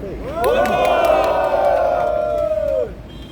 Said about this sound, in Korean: 그래서 이렇게 하신 이승만 대통령님과 박정희 대통령께 한번 큰 박수 한번 해주시기 바랍니다